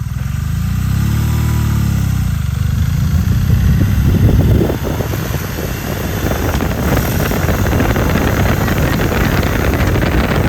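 A 2023 BMW R nineT Option 719 motorcycle rides at speed, its engine note a loud, steady drone mixed with heavy wind rush, rising after an initial lower rumble and continuing without pause.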